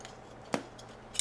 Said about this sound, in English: Need a sharp pair of scissors for this because this fabric is really tight.